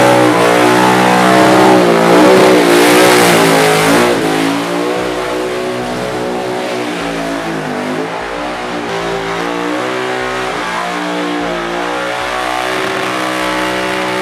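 A Summernats skid car's engine revs hard at close range, loud and harmonic, climbing and falling in pitch before settling into a sustained, pulsing high-rpm drone.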